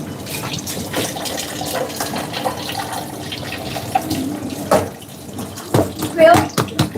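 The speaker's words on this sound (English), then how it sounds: "we want to drain off as much of that excess water as possible" Excess water is drained off in a busy kitchen, splashing and running in irregular bursts with clatters near the end, under a speaking voice.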